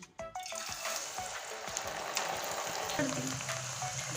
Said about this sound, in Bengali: ছোলার ডালগুলো তেলের ভিতরে ছেড়ে দিয়েছি আর সুন্দর করে ভেজে নেব